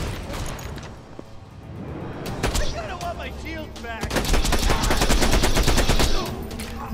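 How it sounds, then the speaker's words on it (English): Rapid gunfire in Borderlands 2 from a sniper rifle, a quick burst of sharp shots building into a dense, loud volley near the end, with brief talk mixed in. "the favorite sniper rifle right there"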